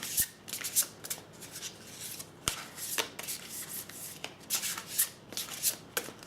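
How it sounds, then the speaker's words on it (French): Oracle cards being shuffled and drawn for a healing reading, with repeated soft papery riffles and rubs arriving in bursts, plus a couple of sharp taps, close and fairly quiet with no talking. "on va tirer une carte de murmure de guérison"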